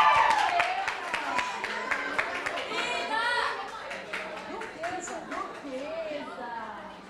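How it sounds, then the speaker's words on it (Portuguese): Graduation ceremony audience clapping for an honoree, a continuous patter of many hands fading gradually over several seconds, with a voice speaking over it. "Uma salva de palmas para a Uiane."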